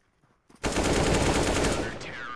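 A loud, rapid burst of automatic gunfire in CS:GO on the Dust 2 map, starting abruptly after a near-silent moment and rattling for about two seconds before tailing off, close and without talk.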